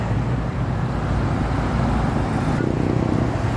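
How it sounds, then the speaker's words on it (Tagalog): Heavy, slow-moving northbound traffic on the South Luzon Expressway in the Philippines, a continuous low rumble of engines and tires with a constant roadway roar, heard from nearby. "sobrang traffic dito sa ano, sa FLEX North Mondial"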